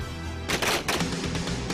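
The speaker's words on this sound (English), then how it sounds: "optimize the use of their firearms by combining agile, physical maneuvers with quick, short fire bursts" Short bursts of gunfire ring out during close-quarter combat training by Pakistani army soldiers, two loud rapid bursts close by over a steady background.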